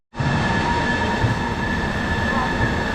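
Express train 04652 from Amritsar to Delhi pulls out, a loud steady rumble and rail roar heard from inside that begins abruptly and holds constant throughout.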